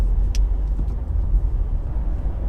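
A 2018 Volkswagen Polo hatchback with a 1-litre engine drives along a road, giving a steady, close low rumble of engine and tyre noise that stays even throughout, with no talking.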